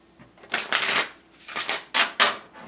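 Tarot wisdom cards being shuffled and handled by hand: several quick, crisp riffling bursts up close, separated by short pauses, with no talking over them.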